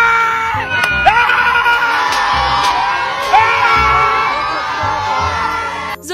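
At an Indian street food stall, a group of people whoops, yells and cheers loudly and close by, with repeated excited shouts over a busy crowd.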